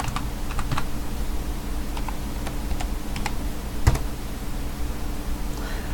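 Someone typing a password on a computer keyboard, a handful of light, close key clicks scattered irregularly over a steady background hiss, one slightly louder tap partway through.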